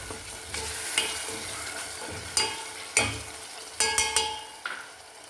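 Food for Tunisian mechkechek stirred in a sizzling pan, with several sharp scraping strokes of the spoon at uneven intervals over a steady, close frying hiss.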